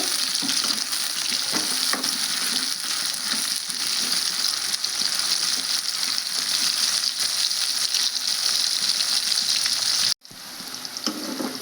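Bitter gourd curry frying in groundnut oil in a pan, a loud, dense, continuous sizzle heard up close with faint stirring, then breaking off abruptly near the end before resuming more quietly.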